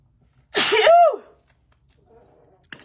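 A single loud, close sneeze with a sharp inhale-burst shape, followed by quiet and a faint shuffle near the end.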